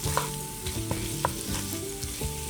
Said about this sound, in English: Let's stir it in until all the onions turn red from the paprika.